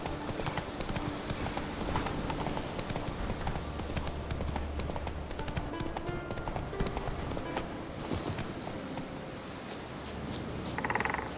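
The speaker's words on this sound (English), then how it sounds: "Whoa there, Roach" A horse's hooves clop along at a steady gallop through the game world of The Witcher 3, with leather and tack creaking, heard amid continuous ambient game sound.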